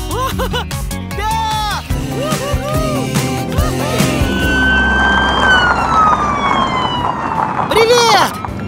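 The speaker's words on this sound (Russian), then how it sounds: "Да, это полицейская машина!" A police car siren wails in rising and falling sweeps, loud and close, with engine and traffic noise beneath and a second siren pattern joining near the end.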